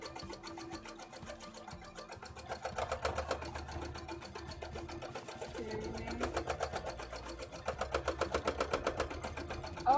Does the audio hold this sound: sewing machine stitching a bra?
yes